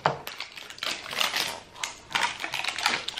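Scissors cutting out cardboard packaging for a Hasbro game, a series of close, crisp snipping and crinkling bursts in an irregular rhythm, with no talking.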